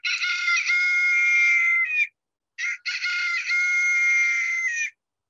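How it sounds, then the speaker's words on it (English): A rooster crows loudly and close by, two long shrill calls separated by a short pause, with no other sound. "That's a rooster."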